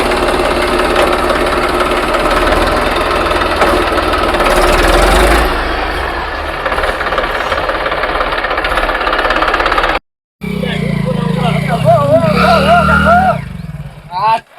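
A tractor engine runs loudly and steadily with a heavy low rumble for about ten seconds, then cuts out abruptly before people start talking.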